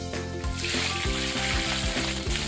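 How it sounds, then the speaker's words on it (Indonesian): Pindang fish, also called cuek, fries in a pan with steady oil sizzle and crackle, loud and close, with clattering pan sounds and no talk. "Pertama di sini tuh aku goreng ikan pindangnya"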